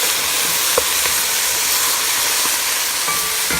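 Spices and tomato puree frying in a pan for Al Kabsa, producing a loud, steady sizzle with a few faint knocks from stirring.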